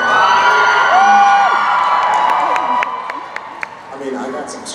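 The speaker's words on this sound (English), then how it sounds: "So I got some cheers." A crowd cheering and whooping, bright and close, with a few sharp calls and claps over a sustained roar that thins toward the end as people keep talking over it.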